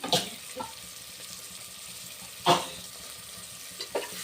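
Tomatoes added to a pan for vegetable pulao, frying quietly while a spoon scrapes and stirs in a few distinct strokes over a soft background sizzle.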